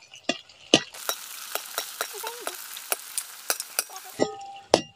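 Coconut-filled flatbread deep-frying in hot oil in a kadai: a steady crackling sizzle broken by sharp, close pops and spatters, with no talking.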